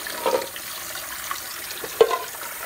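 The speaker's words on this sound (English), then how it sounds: "So I'm just going to dump it out once" Warm water from a pan of boiled eggs is poured out into a sink, a soft splashing gush with a couple of louder sloshes near the start and again toward the end, without any voices.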